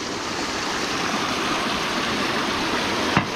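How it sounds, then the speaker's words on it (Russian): Rushing mountain stream swollen with floodwater runoff in Miskhor, Crimea, a steady broadband roar of fast water that holds loud and unbroken, with one brief splash near the end. "Вот такой ручей бежит."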